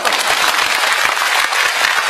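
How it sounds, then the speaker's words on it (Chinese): Sustained applause from a lecture audience in a speaking hall, dense, loud and steady throughout, with no voices rising above the clapping. "要不要掌声鼓励他一下？"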